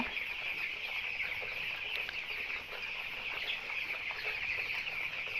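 Many chickens on a poultry farm cluck and chatter together in a constant crowded murmur, faint and steady with no voices over it.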